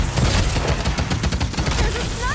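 Rapid automatic gunfire from a weapon in the video game Paladins, a loud continuous burst of closely spaced shots held for the whole stretch, with a voice faintly mixed in.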